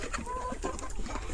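Desi chickens on a poultry farm, some of them sick, cluck steadily and close by, with overlapping hen calls and soft farmyard background noise.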